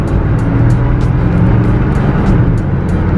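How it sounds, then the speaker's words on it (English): A classic Chevy Nova or Oldsmobile Omega with a small-block engine gets a little throttle, giving a loud, close, steady rumbling roar that holds throughout with no talking. "I'm gonna give it a little gas right here."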